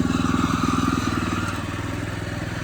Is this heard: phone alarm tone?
no